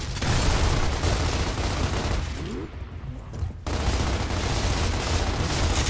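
Dense gunfire in the video game Gears of War: Ultimate Edition, a loud sustained fusillade of rapid shots that briefly drops away, then resumes at full volume.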